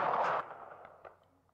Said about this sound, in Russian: Вот тебе, получай!» — сказал дядюшка Рок и выстрелил